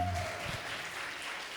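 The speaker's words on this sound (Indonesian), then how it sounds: "Tepuk tangan" Faint audience clapping in a hall at a motivational talk for incoming university students, a soft scattered patter of hands that is quiet and somewhat distant.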